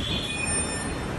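Faint, distant train noise with a thin high metallic squeal over a low rumble, a metro train moving through Sector 76 metro station.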